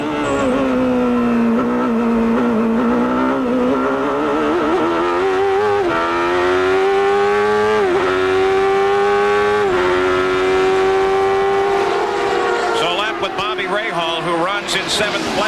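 Onboard a CART Indy race car at Mid-Ohio in 1993, the engine holds a loud, sustained high-pitched howl that swells and dips with throttle and gear changes, with a race commentator talking over it.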